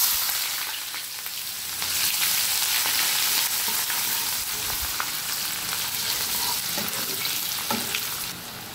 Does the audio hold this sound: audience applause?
no